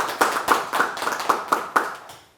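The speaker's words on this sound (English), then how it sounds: "So please join me in giving a round of applause to our eminent speaker tonight." Applause for a speaker at an evening lecture on Nietzsche, a short patter of clapping in uneven bursts that tails off within a couple of seconds. It sounds fairly close and sparse, as if only a few hands are clapping.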